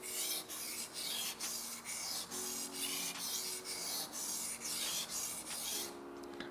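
A knife blade is drawn across a whetstone at the tip in steady back-and-forth strokes, making a rhythmic, rasping scrape with short pauses between passes, close and clear with no voices.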